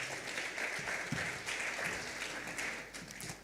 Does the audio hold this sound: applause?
yes